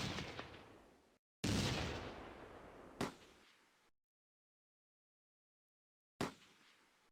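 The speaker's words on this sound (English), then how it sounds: "The Vickers and Bren sections target it" Vickers and Bren machine guns firing in a Close Combat World War II battle near Arnhem, heard as a few loud, sharp bursts that decay quickly, with one long silent gap before a final burst.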